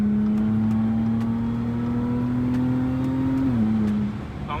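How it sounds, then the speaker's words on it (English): Supercharged 400 hp Audi S4 engine holds a steady, droning rev with a whining harmonic at night, close and loud, then dips slightly before easing off near the end. "Comment below if you like the sound of the supercharger."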